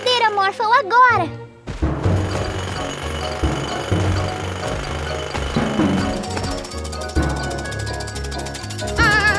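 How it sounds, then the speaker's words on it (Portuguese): Cartoon drill sound effect whirs and clatters loudly with a mechanical grinding buzz after a brief squeaky voice, continuing steadily over background music. "Precisamos parar aquela furadeira, Morphle, agora!"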